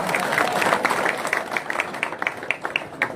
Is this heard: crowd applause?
yes